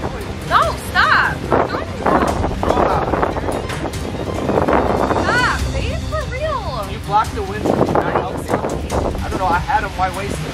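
Strong wind gusting outdoors, buffeting the microphone with heavy low rumbles that rise and fall throughout. Voices talk and exclaim over the blustering noise.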